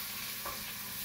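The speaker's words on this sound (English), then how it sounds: "Fry your onion." Onions frying in a pan for a beef stew give a steady, close, broadband sizzle with one brief brighter scrape partway through, and nobody speaks.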